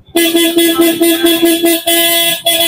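A stock car horn honks loud and close in a rapid string of short blasts with tiny gaps, then one longer blare near the end.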